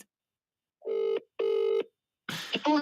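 A phone call ringing on the line, with two even, close ring tones followed by a short burst of an automated or distorted voice as it rolls over to voicemail.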